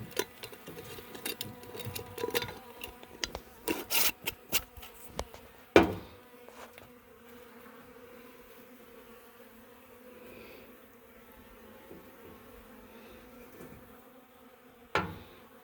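Honeybees hum and buzz around an opened beehive during an inspection, a thin steady drone close by, with sharp knocks and clatters of hive parts and tools early on and again near the end.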